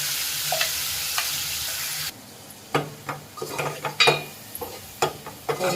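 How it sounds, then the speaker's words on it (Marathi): Masala paste stir-fried in hot oil for a spicy mutton rassa curry: a loud, steady sizzle at first, then a run of close, uneven scrapes and stirring clatters over a softer frying hiss. "आता आपण ह्याच्यामध्ये परतून घेऊ तेल पण गरम झालेलं आहे हे मसाला आपण चांगलं परतून घ्यायचं आहे"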